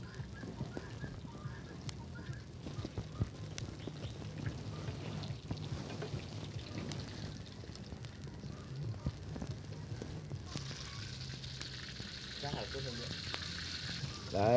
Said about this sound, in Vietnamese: các bạn nhớ là rán rồi phải rán nhỏ lửa nhá, thì nó sẽ vàng và rất là ngon